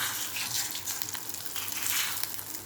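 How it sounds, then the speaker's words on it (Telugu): Cumin and fenugreek seeds fry in a hot kadai on a stove, a continuous close crackling sizzle with irregular popping bursts and no voices. "స్టవ్ వెలిగించుకొని కడాయి పెట్టుకొని జీలకర్ర మెంతులు వేపుకోవాలి"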